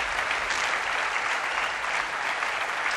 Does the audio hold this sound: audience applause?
yes